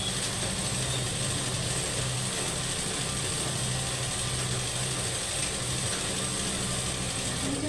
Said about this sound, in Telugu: సైడ్ కుట్లు కూడా కుడతాను చూడండి